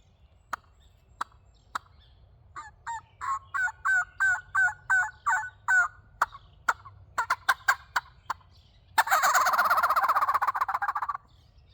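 A Brute Tube turkey call imitates a turkey: sharp clucks and a rapid series of yelping notes, then a loud, rattling gobble at the end, close and clear over a quiet background.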